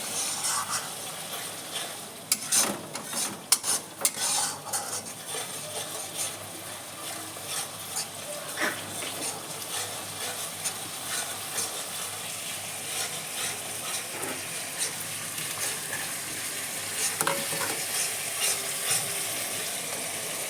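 Spice masala with a splash of water is stirred and fried in a pan for matar paneer, a steady close sizzle broken by a few sharp scraping and clinking strokes near the start, with no one speaking.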